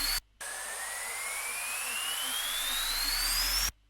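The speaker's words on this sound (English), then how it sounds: "Then we have an uplifter." Uplifter riser effect in a music production intro: a continuous tone sweeping steadily upward in pitch over a noisy wash, loud and alone, after a brief gap at the start and ending abruptly.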